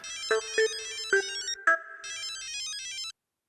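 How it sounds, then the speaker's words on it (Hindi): An electronic phone ringtone plays a bright, repeating melodic pattern of tones, fairly close, then cuts off abruptly into silence. "रजत, गलत टाइम पे फोन कर दिया साले ने"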